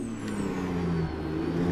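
A truck engine brake in the American Truck Simulator video game gives a brief, steady, low droning rumble with a humming tone, heard alone.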